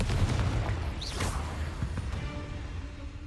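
The Confringo blasting spell in Hogwarts Legacy erupts in a deep booming explosion with a rushing whoosh and a low rumble that lingers and slowly fades inside a cave.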